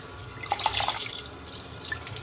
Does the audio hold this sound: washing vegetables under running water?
yes